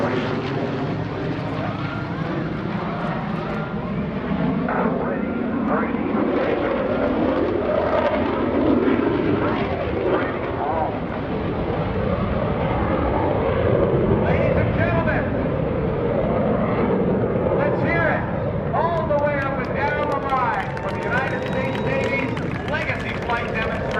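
An F/A-18F Super Hornet jet flies a demonstration at the 2018 NAS Oceana Airshow, its loud, continuous engine roar rising and falling throughout as an announcer talks over it.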